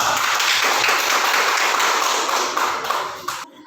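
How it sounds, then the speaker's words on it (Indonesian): A dense burst of clapping from a school class, steady and loud for a few seconds before tapering off. "tepuk tangan buat kelompok 3"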